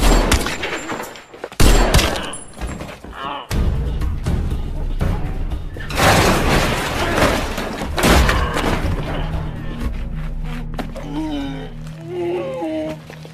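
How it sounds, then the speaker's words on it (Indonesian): Gunfire in a gangster action film scene: sharp, loud bangs and thuds burst out early, followed by rumbling, roaring effects and dramatic sound that swells and fades through the rest. "dia melihat Jong Suk dan langsung menembaknya"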